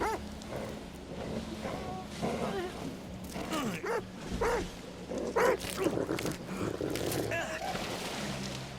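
A dog barks and yelps in the horror video game The Devil in Me, sharp repeated barks over game sound while a player talks over it.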